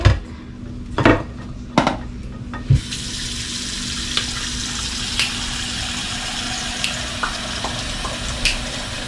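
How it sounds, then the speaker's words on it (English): A few sharp metallic clanks as a pan is set in a kitchen sink, then a tap runs in a steady close rush broken by scattered light clinks, with no talking. "Put my pan in the sink."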